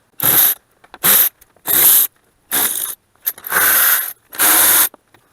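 Fan clutch coming off a Kia Mohave engine: six sharp bursts of a buzzing ratchet or power tool, each lasting under a second, separated by short silences, close and loud.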